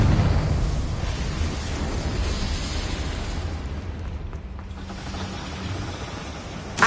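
Rumbling blast from the Confringo fire spell in Hogwarts Legacy, a sustained roaring boom that slowly fades over several seconds, loud and near, with a small sharp pop at the very end.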